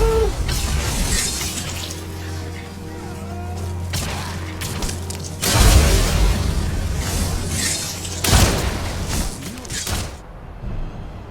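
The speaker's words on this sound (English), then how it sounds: "Frost spells that hit a frost-resistant target fragment and explode in a 15-foot area" A Shatter frost spell from Skyrim explodes in a fragmenting, glassy crack and boom over a steady game background hum, with a second burst a few seconds later.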